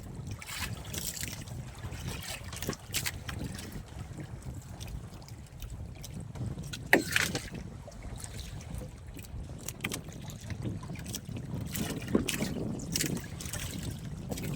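Steady wind and lapping water surround a small fishing boat at sea at night, making a continuous rushing wash with occasional knocks and splashes and no voices.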